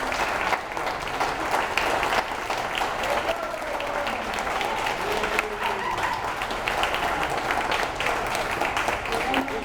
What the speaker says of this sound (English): I'd like to have you all give the candidates a good round of applause, please.